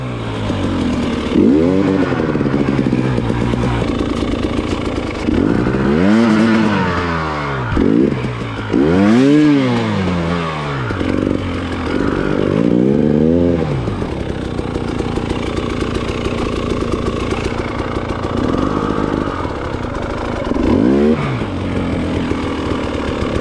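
A dirt motorcycle revs hard while being ridden through snow on a spring trail, engine pitch sweeping up and down in repeated loud surges, close and continuous with no talking.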